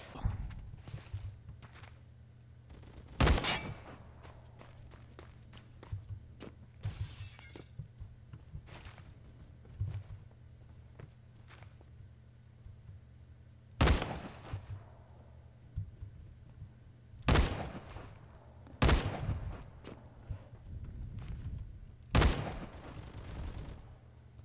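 Scattered gunfire in the Roblox shooter Phantom Forces rings out as sharp, isolated cracks, about seven loud shots spaced irregularly. A low background hum and faint clicks and steps fill the gaps between them.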